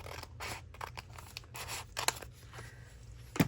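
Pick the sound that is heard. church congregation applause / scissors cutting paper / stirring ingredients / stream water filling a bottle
scissors cutting paper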